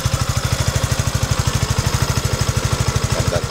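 A Suzuki Gixxer motorcycle engine idles after a remote keyless start, a close, loud, fast and even low-pitched putter that holds steady throughout.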